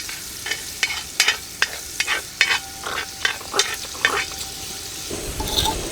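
Garlic frying in hot oil for a mud crab curry, heard as bursts of sizzle and crackle with repeated scraping stir strokes in a steady rhythm, close and fairly loud.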